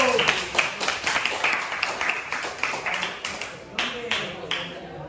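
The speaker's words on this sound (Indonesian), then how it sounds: "Tepuk tangan dulu" A class of students applauds as a group is invited to the front for a guidance lesson, a quiet, close, uneven patter of many hands with sharper individual claps standing out, while voices murmur underneath.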